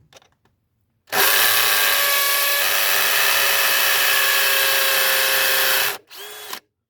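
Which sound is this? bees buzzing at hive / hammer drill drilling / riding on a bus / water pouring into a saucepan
hammer drill drilling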